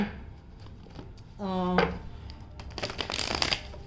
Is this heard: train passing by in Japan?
no